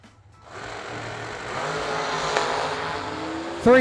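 At a drag strip, a black dragster's engine roars up, building to a loud sustained drone, then a sharp tonal sweep and burst near the end.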